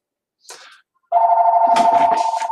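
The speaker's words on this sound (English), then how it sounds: "Of course, there's the phone because I have a landline." A landline telephone rings loudly and close by, a steady buzzing ring starting after a brief soft rustle and continuing to the end.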